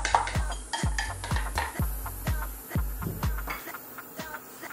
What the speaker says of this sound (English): We're gonna start by dropping in some of our onions.